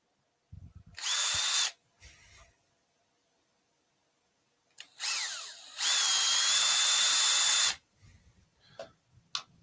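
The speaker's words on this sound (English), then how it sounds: "Let me just put a token gesture of a hole in just to show you where we are." A drill bores a hole into a wooden piece mounted on a lathe, with two loud high-pitched whirring bursts, the second longer, separated by quiet pauses and light handling knocks.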